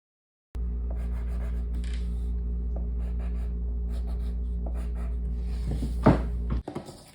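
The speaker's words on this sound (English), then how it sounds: "I'm going to draw the hexagon" Pencil scratching across paper while drawing a hexagon, a steady close rubbing texture with short stroke breaks, ending in a louder scrape.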